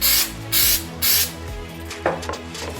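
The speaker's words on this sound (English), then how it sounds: "you just get the activator and spray it" Three short hissing bursts of an aerosol glue activator spray on 3D-printed parts, evenly spaced and close, followed by a faint click and light handling noise.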